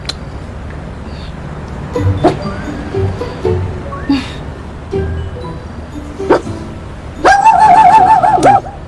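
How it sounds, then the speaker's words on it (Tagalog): A dog gives a few short, scattered barks and yips outdoors, closing with a louder, longer whining bark, amid light background rustle. "Naiinis din yung aso."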